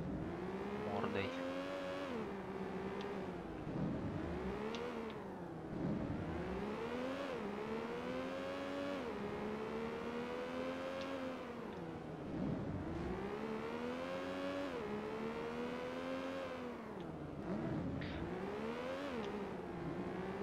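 Porsche racing car in the video game Need for Speed: Porsche Unleashed, an engine revving and whining steadily through rising and falling gear shifts for the whole stretch, loud and continuous with talk over it.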